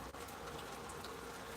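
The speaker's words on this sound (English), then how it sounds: "The rain is walloping in, absolutely walloping." Heavy rain pours down in a dense, steady hiss, loud and unbroken for the whole short stretch, with no voices over it.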